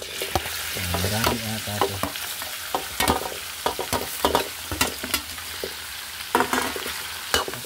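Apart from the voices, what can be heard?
sautéing chopped lechon head with garlic and onion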